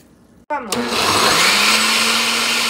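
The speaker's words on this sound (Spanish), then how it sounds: "Llenamos el vaso de la licuadora con el caldo de pollo ya frío." A kitchen blender starts up loudly and runs steadily, whirring as it blends mole with cold chicken broth, after a brief spoken word at the start.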